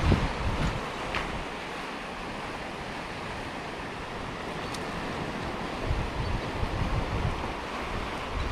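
Rough sea waves surging and washing continuously up close, mixed with steady wind buffeting the microphone, with no talk.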